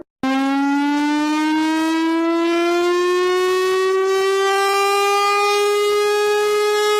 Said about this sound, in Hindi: दुनिया के 4 सबसे खतरनाक वार्निंग सायरन की आवाज